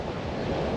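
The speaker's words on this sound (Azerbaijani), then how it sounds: "Biraz küləklidir. Bu tərəflər küləklidir yəni." Strong wind blowing at Shah dili during a CF Moto 250 SR motorcycle ride, a steady close rush buffeting the microphone for under a second with no voices.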